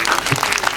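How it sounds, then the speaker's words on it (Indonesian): Audience applause at a twentieth-anniversary gathering of a breast cancer support group in Surabaya: a dense, steady wash of clapping, close and fairly loud, in a very short burst. "Tepuk tangan untuk kita semuanya."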